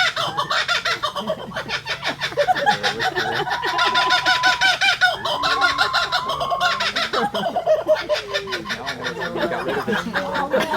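A kookaburra at a wildlife sanctuary gives a loud, rapid, cackling laughing call in repeated bursts that rise and fall over about ten seconds, heard close by.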